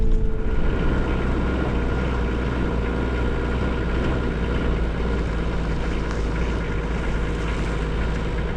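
Vehicle engine on a road trip in the Ecuadorian highlands near Chimborazo, climbing steep curves in low gear, holds a loud steady drone close by with constant rumble and no break throughout.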